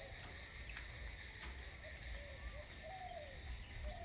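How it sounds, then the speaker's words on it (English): Frogs calling outdoors at a distance, a faint steady chorus of high trilling and chirping with occasional soft calls rising over it, quiet and continuous. "maybe you hear the frogs in the background here"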